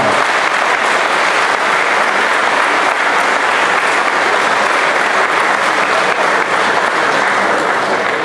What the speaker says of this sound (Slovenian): En aplavz si zaslužijo za organizacijo tega tabora.